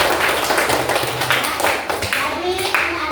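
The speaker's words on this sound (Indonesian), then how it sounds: "kita kasih aplaus untuk teman-teman" Classroom audience applauding after a student group presentation, a steady patter of hand claps lasting the whole stretch, fairly close, with scattered voices underneath.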